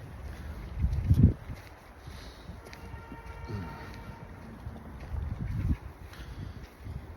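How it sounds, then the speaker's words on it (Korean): Outdoor wind blows across a phone camera microphone, an iPhone 14 Pro or Galaxy S23 Ultra, while filming 4K 30p video under a partly cloudy sky. Two low, rumbling gusts buffet the mic over a soft, steady background, with no talking. "바람 소리가, 바람이 조금 부는데 이때 그 수음 능력"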